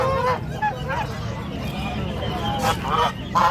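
Ducks and geese honk and quack at a busy market, loud and close in repeated bursts, under people talking and general crowd babble.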